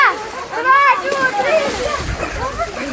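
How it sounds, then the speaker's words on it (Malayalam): People jumping into a cold swimming pool at a farm house, with close splashes and sloshing water under excited voices and children talking. "അപ്പൊ നമ്മളെല്ലാരും വെള്ളത്തിൽ ചാടാൻ പോവാണ്."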